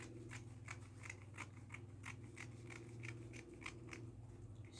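Scissors snip through fabric while cutting out the front panel of a princess bustier, a quick series of crisp, evenly spaced cuts over a low steady background hum, close up and without speech.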